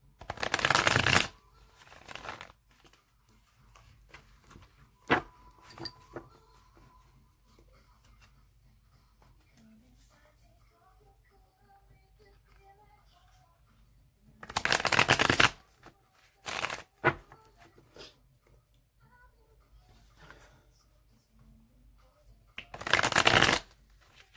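A deck of tarot cards is riffle-shuffled in several quick bursts, with quiet gaps of soft handling between them.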